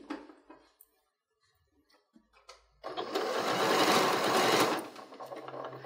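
A sewing machine stitches a headwrap at a long stitch length, about an eighth of an inch from the edge. Scattered soft handling sounds come first, then a loud, steady run of close machine whirring that stops abruptly.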